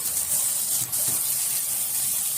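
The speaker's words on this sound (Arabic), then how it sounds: "انزل كده بالقوانص عشان القوانص بتاخد سوا عن الكبده، واديها ايه تشويحه كده مع البصل" Small chopped chicken gizzards sauté with onion in a pan, giving a continuous, fairly loud frying hiss with a brief dip near the middle and no voices.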